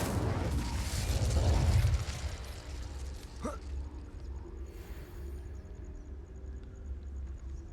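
Incendio fire spell cast in Hogwarts Legacy: a loud fiery burst and whooshing rumble in the opening two seconds, followed by a brief crackling pop and quieter lingering ambience.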